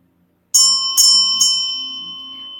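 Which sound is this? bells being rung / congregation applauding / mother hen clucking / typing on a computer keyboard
bells being rung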